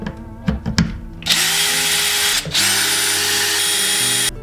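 A power drill backs screws out of the handguard of a Kel-Tec gun: a few handling clicks, then a loud, steady whine for over a second, a brief stop, and another long run before it cuts off.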